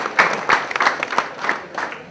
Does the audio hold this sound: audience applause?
yes